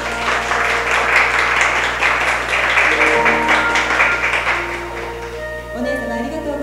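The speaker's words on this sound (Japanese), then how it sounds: "ご両家の絆に温かい拍手をお願いいたします。" Warm applause from wedding guests at a mock ceremony at the Nagoya Garden Palace hotel, moderate and steady, with soft music or tones over a constant low hum.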